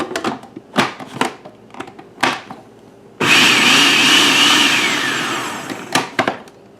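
Food processor pulsing chopped onion and garlic for fresh salsa, a loud steady whir lasting about three seconds, preceded and followed by knocks and handling clatter.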